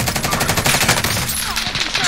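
Dense automatic gunfire from a rooftop shooter in a multiplayer shooter game, continuous rapid bursts filling the whole stretch at close, loud range with no talking.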